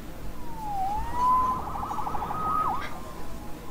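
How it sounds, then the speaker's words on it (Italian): A video game police siren wails with rising and falling tones, moderately loud over a low background rumble. "Salvato dalla sirena."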